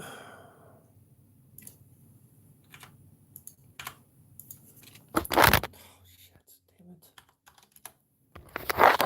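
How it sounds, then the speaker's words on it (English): Sparse, irregular keyboard clicks from a computer keyboard, soft taps spread over several seconds with a louder rustling burst partway through, under quiet background noise. "I'm like trying to type and move my hands around"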